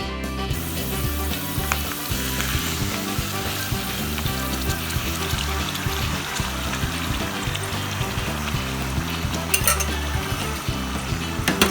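Marinated chicken steak fries in hot oil in a pan, a loud, dense, continuous sizzle and crackle held close throughout, with a faint clink near the end.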